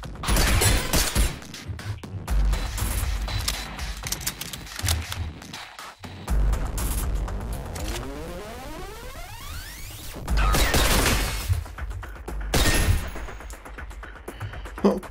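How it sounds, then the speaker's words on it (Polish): Gunfire in the video game Synthetik, loud dense bursts and crashing impacts spread across the whole stretch with brief pauses, along with mechanical clatter and no talking. "Dwa strzały, ale to wystarczy."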